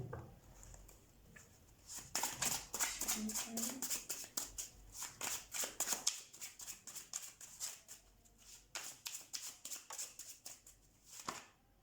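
A new tarot card deck is shuffled close by, with quick bursts of riffling and card slaps through the middle and lighter handling at the edges.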